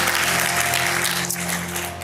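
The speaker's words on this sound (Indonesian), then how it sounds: "Beri tepuk tangan buat Tuhan kita." Congregation applause in a church during a Sunday sermon service, a dense continuous clapping wash filling the room at steady loudness for about two seconds, with no speech over it.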